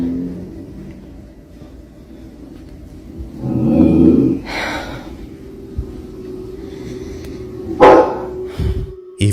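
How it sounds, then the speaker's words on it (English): A family dog growls and barks in short bursts, loud and near, over a steady low engine-like drone in a quiet room. "They growl and bark as if sensing something dangerous, but clearly nothing is there"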